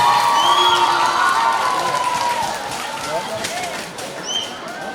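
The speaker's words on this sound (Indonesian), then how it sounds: "Beri tepuk tangan untuk paslon nomor urut 2." Student crowd at a junior high school student council election debate cheering and shouting for a candidate pair, a loud, dense roar of voices with some clapping mixed in, gradually fading over a few seconds.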